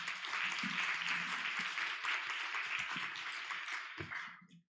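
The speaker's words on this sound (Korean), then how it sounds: "큰 박수로 맞이해 주시기 바랍니다." An audience at an international climate forum session applauds to welcome the next speaker, a steady round of clapping that fades out over about four and a half seconds, faint and somewhat distant.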